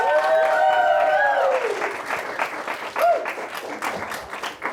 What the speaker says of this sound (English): everyone, give a big round of applause for Pearl.